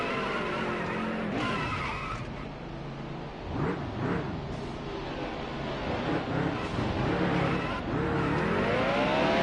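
A stock car does tire burnouts in the NASCAR Heat Evolution racing game at Phoenix, with a loud, sustained engine roar and wailing, swooping tire squeals that keep rising and falling throughout.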